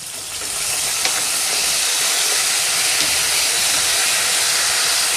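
Finely chopped garlic, ginger and green chillies with vinegar, soy sauce, chili sauce and honey fry in a pan for honey chilli chicken, giving a loud, steady, close sizzling hiss that runs unbroken throughout.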